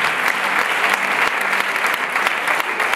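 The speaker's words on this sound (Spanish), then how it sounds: "Era fuerte aplauso a mi Julián" A church congregation at a Spanish-language sermon breaks into loud, vigorous applause, a thick continuous clatter of many hands with a few sharper claps standing out.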